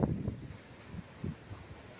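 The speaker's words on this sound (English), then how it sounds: "It's just gusting winds." Gusting wind rumbles in low, uneven bursts against the microphone, several soft puffs rising and falling over a quiet outdoor background with faint leaf rustle and no speech.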